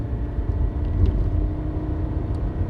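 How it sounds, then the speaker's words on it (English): A 1983 VW Quantum GL5 wagon with its five-cylinder engine pulls hard at full throttle in second gear, a deep, steady engine rumble with road noise heard from inside the cabin. "Put the down shift to second. Foot to the floor."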